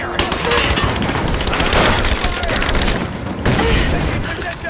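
Sustained automatic gunfire and explosions from Rise of the Tomb Raider form a dense, loud volley of rapid shots with brief gaps, booms mixed in, and shouted voices amid the fighting.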